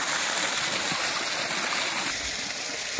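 Water gushes steadily from the outlet pipe of a solar-powered farm irrigation pump, a continuous loud splashing rush that runs unbroken throughout, with no voices over it.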